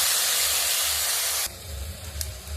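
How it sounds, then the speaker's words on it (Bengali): Water poured into a hot cooking pot of sweet potatoes for a fish roe chutney sends up a loud burst of hissing steam, which cuts off abruptly and leaves a quieter bubbling simmer. "এখন আমরা জল দিয়ে দিচ্ছি।"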